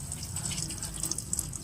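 Water runs steadily from a pipe while a water tank is cleaned, making a continuous hissing, splashing flow at close range, with faint voices in the background.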